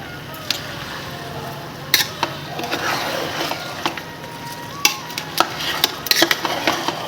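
Rice stirred in a cooking pot with water, a close scraping swirl broken by occasional sharp clinks of the utensil against the pot.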